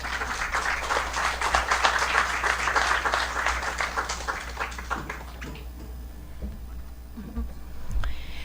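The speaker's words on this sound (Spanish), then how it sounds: "recibimos con un fuerte aplauso" A lecture audience at a Peruvian university education faculty event applauds to welcome a professor, steady dense clapping from many hands for about five seconds before fading into quieter room sounds and scattered taps.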